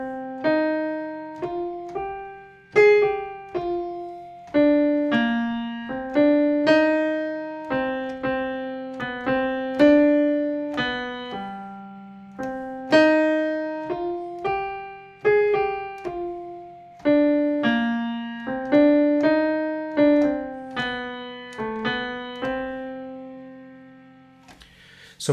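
Minor-key melody of Greensleeves, also known as What Child Is This?, played alone as a steady line of plucked, decaying notes over a low sustained drone, moving in a lilting triple rhythm for about twenty-five seconds.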